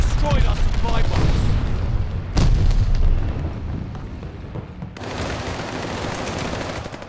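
Glide bomb explosions in the multiplayer shooter Call of Duty: Vanguard, loud booming blasts layered with gunfire and rumbling debris, one sharp hit near the middle and another surge toward the end, over continuous battle noise.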